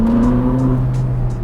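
A Ferrari 458 Spider's V8 engine droning close and loud while driving, a sustained tonal hum that shifts slightly in pitch, with faint wind noise over it.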